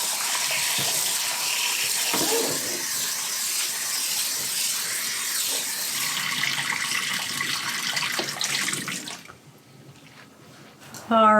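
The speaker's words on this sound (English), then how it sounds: "I just got done rinsing my cucumbers." A kitchen tap gushes loudly and steadily while cucumbers are rinsed for canning pickles, a broad, close hiss of running water that shifts slightly as hands move, then cuts off near the end.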